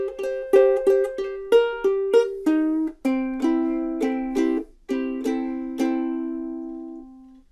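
Ukulele picking the classic blues lick, a quick run of bright plucked notes with repeated triplet-like figures that settle into lower ringing notes, played alone and clearly close up.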